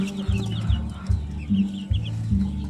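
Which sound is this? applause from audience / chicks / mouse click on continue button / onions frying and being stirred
chicks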